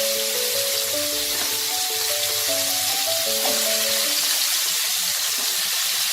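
Green plantain frying in oil with potatoes and other vegetables for a Bengali dudh sukto, a constant bright hiss of sizzling alongside quiet background music.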